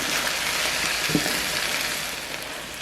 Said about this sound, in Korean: 고춧가루 한 큰술, 설탕 한 큰술과 소금 한 작은술, 참치액 한 큰술 넣어 수분이 없어질 때까지 타지 않게 볶으세요